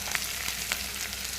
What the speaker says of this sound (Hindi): कूटा हुआ लहसुन मिर्चा अदरक है इसको डाल देते हैं। भून लेते हैं।